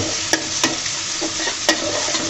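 Ground spices frying with cumin, ginger, garlic and onion in hot oil, a steady close sizzle with a few sharp clicks of a spoon stirring against the pan and no talking.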